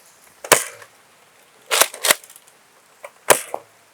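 Zuru X-Shot Chaos Meteor Orbit toy foam blaster fired over a chronograph outdoors, giving several sharp snapping pops in irregular bursts, some doubled close together, with quiet gaps between.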